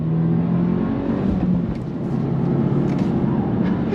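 A 2024 Subaru WRX TR engine pulls hard on throttle along a winding road, a steady, loud, droning roar with low rumble filling the whole stretch without pause.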